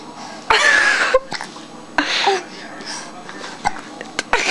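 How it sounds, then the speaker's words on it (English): A young child hiccups several times in short, sharp bursts spaced over a few seconds, close by, with an adult talking in between. "You got the hiccups."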